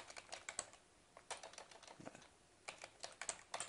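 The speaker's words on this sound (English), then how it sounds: "Typing too fast." Rapid typing on a computer keyboard comes in quick bursts of close, crisp key clicks with brief pauses between runs, heard alone without talk.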